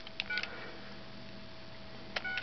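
Keypad tones from a Magic Jack phone as a call is dialed to a cell phone, a few short faint beeps in two clusters at the start and end over quiet background hum.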